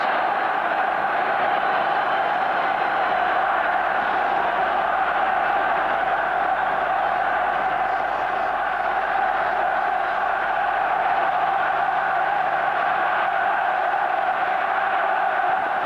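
A large football stadium crowd at a 1990 World Cup qualifier between Ireland and Spain roars continuously, a dense, sustained wall of cheering that holds steady throughout without breaks.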